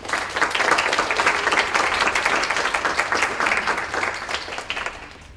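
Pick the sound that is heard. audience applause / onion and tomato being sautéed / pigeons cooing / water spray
audience applause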